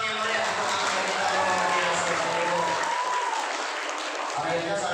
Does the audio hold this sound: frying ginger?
no